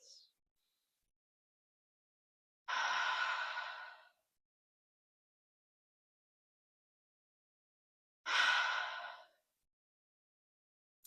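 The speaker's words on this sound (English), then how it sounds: "take a couple deep breaths" Two slow, deep breaths taken during a guided grounding exercise with eyes closed and shoulders relaxed, each a breathy exhale lasting over a second, close and clear, separated by silence.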